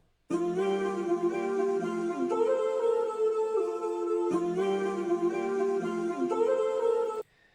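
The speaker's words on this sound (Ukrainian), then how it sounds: "У нас додається вокальний луп." A solo vocal loop for a beat, a sustained melodic sung phrase with layered harmonics that repeats in two near-identical cycles, steady and clear with no talking over it.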